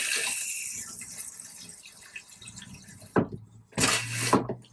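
Water running through an RV toilet in a Forest River Wolf Pup during de-winterizing, a close, hissing flow that fades, then returns in two sharp gushing bursts.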